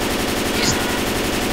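Rapid automatic gunfire from the zombie shooter game Left 4 Dead 2, a dense continuous burst of loud rattling shots with no pauses, close and filling the whole moment.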